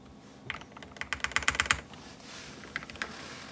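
Typing on a Feker IK75 mechanical keyboard upgraded for a deeper thock: a quick burst of clacky keystrokes that builds, pauses, then returns as a few more presses over faint background hiss.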